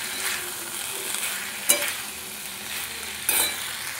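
Boiled chickpeas and potatoes stirred and fried in a pan, with a constant close sizzle and two sharp spatula scrapes against the pan.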